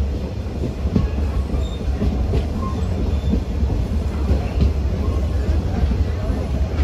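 A MEMU Express train from Chennai Central toward Bitragunta rumbles steadily from onboard, with a loud continuous roar of wheels and faint rhythmic clacks over the rails.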